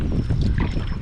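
Low, gurgling water sloshes against a canoe hull as a paddle strokes through it on Pencil Lake, with soft wind rumble in the background.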